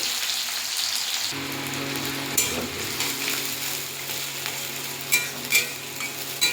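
Chopped onion drops into hot oil for a tarka and sizzles steadily, a broad hiss swelling from the second second on with a few light stirring knocks, close and alone.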